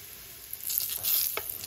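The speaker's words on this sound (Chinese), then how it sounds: "然后再给它迅速泼上热油" Hot oil is poured over flour, salt and spices in a bowl, giving a brief bright sizzle that swells and fades in close quarters, with light stirring scrapes.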